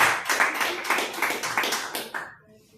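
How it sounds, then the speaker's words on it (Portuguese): Steady applause from a church congregation, a dense run of claps that fades out near the end, with no talk over it. "uma linda salva de palmas ao Senhor Jesus."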